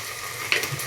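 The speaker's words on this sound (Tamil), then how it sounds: "பட்டாணி ஆட் பண்ணி நல்லா ஃப்ரை பண்ணிக்கணும்" Green peas frying in a pan with salt as seasoning, a steady close sizzle with a sharper burst of stirring partway through the brief moment; no voices.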